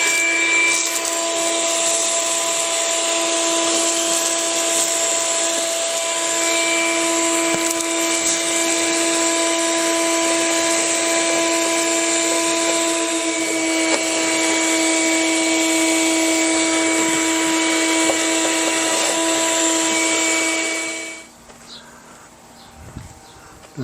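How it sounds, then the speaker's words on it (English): A vacuum cleaner drones loudly and steadily for about twenty seconds while sucking gunk out of a Jeep Liberty, then cuts off, leaving near silence. "vacuum."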